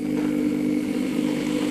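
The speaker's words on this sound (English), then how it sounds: "It slows the drill down." Power drill driving a part into place during assembly of an Align Trex 470LP RC helicopter, giving a steady close whirring hum that holds a constant pitch under load for the whole moment.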